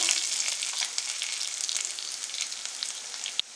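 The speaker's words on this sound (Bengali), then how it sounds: "এই কুচনো পেঁয়াজটাকে ভালো করে তেলে ভেজে নেব।" Chopped onion fries in oil for a Bengali shushni greens dish, a close, bright crackling sizzle that runs steadily, with a soft knock near the end.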